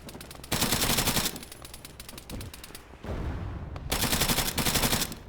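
Sustained bursts of rapid automatic gunfire in the video game ArmA III, loud and close, broken by brief lulls of rumbling noise before the firing resumes.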